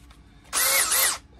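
A power drill fitted with an auger bit in a normal chuck bores through a piece of wood in one loud, steady burst lasting under a second, with nothing else heard.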